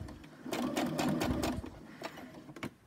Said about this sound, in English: And what I do is just do a little wiggle stitch